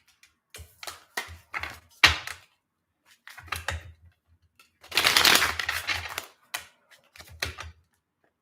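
Several quick papery riffling bursts of tarot cards being shuffled, close by, with a longer dense shuffle in the middle, and no talking.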